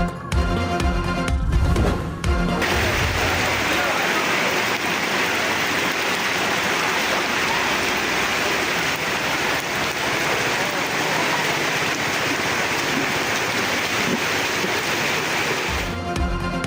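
Heavy monsoon rain pouring down in Rawalpindi, a dense, steady wash of falling water that holds at a loud level for nearly the whole stretch, with brief muffled noise at the start and end.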